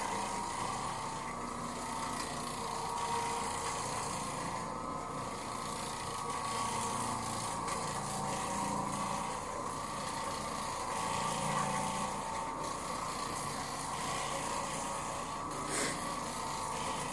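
An Oreck Orbiter orbital floor machine scrubs a living room carpet, giving a steady, faint motor hum with a rough brushing texture that continues unbroken throughout.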